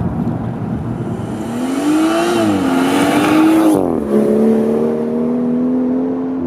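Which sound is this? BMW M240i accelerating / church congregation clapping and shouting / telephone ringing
BMW M240i accelerating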